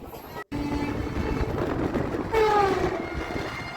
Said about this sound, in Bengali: পুরী হাওড়া বন্দে ভারত হাওড়া ফিরছে এটা বাগনান স্টেশন